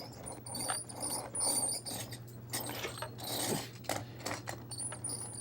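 Small plastic mechanism of a toy grader clicking and grinding in short bursts, close and quiet, with faint rattles between movements.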